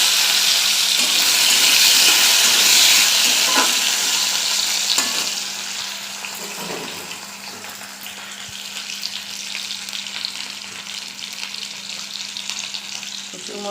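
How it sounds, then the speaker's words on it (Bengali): Pieces of taro dropped into hot oil with nigella seeds, frying with a loud hiss at first that settles into a softer, even sizzle, with a few scrapes from stirring and no voices. "ওই তেলের মধ্যে আমি কালো জিরে দিয়ে দেবো। কচুগুলো দিয়ে দিলাম।"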